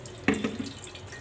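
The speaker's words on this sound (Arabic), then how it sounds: "انا بصفي الليمون اللي انا عملته دلوقتي في الميه السخنه" Hot water with soaked lemons being strained, a brief close splash and trickle of liquid lasting about a second.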